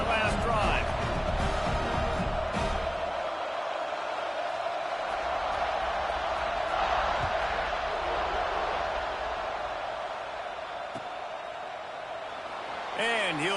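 A stadium crowd at a South Carolina versus Georgia college football game makes a steady broadband roar under continuous play-by-play commentary.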